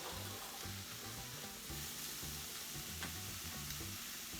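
Portobello mushrooms sizzle steadily in a hot pan as they are stirred, a continuous quiet frying hiss with faint scraping, no voices.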